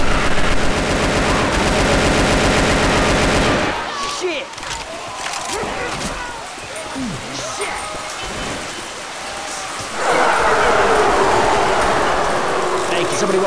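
Rapid gunfire from survivors shooting at a zombie in Left 4 Dead 2, a dense, loud rattle of shots at the start and again near the end, with quieter scattered game noise between and voices talking over it.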